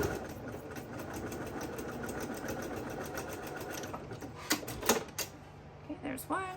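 Sewing machine running steadily as it stitches a quarter-inch seam over the raw edge of a fusible fleece fabric basket, locking at both ends; a continuous rapid whirring chatter, close by, with a few clicks and handling noises near the end.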